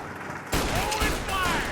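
Gunfire in Mafia Definitive Edition starts abruptly after a quieter moment and becomes a loud, dense volley of shots with whizzing ricochets, while voices shout over it.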